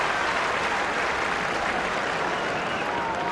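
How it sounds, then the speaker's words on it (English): A dense, roaring crowd cheers throughout at a 1999 Australian football match between West Coast Eagles and Essendon, a steady loud wall of stadium noise with no break. "And listen to this crowd"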